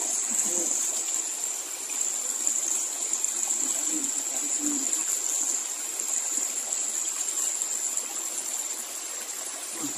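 Clear water of a village stream in far western Java rushes steadily and close by, a continuous bright flowing wash that never lets up, with faint voices now and then underneath.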